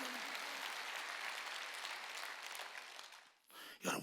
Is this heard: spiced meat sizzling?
no